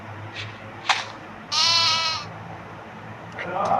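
A sheep in the video game Minecraft bleats once, a clear wavering baa up close, set among faint clicks and soft game background noise.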